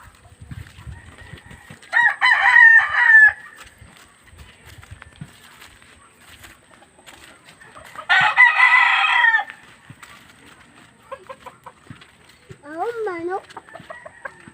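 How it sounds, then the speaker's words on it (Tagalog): A rooster crows loudly twice, several seconds apart, amid soft clucking and scattered farmyard noises, with a later fainter bird call. "Manok."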